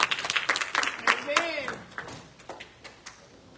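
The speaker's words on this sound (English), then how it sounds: "Come on and clap your hands for them as they come in that order." A church congregation claps along during a Christmas service, with dense, steady handclaps and a ringing tone in a reverberant hall that fade toward the end, while a voice speaks over them.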